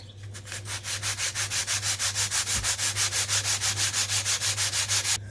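A long sanding block rubs back and forth over a wooden rudder in steady rhythmic strokes, about five per second, close and even with no talking.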